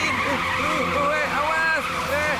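An animated cartoon car's tires squeal in a long, wavering skid as it slides on a slippery wet road. Characters speak over the screech.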